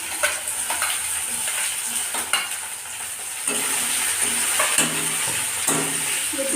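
Onions fried in a pan for chicken curry, a crackling sizzle with repeated scraping stirs and spoon clicks against the pan, close and fairly loud, no one talking.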